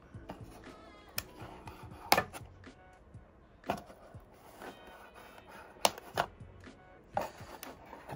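Action figure being cut free from its packaging: a run of sharp, irregular snips and plastic clicks up close, spaced over several seconds, fairly quiet between each cut.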